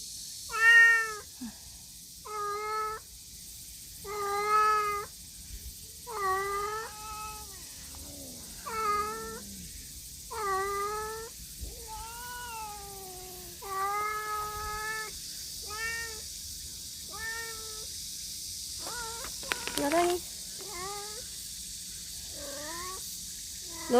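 A cat meows over and over, a steady run of clear, drawn-out calls with short pauses between them, close by and with nothing else going on.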